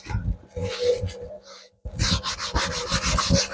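A cloth rubs finish into a hardwood oak wall clock, with brisk back-and-forth scrubbing strokes close up, a brief pause and then a vigorous renewed burst of rubbing.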